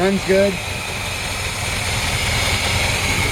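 A 1948 Oldsmobile Coupe engine idles quietly at close range in a steady, even low rumble, with fans turning, after a brief voice at the start.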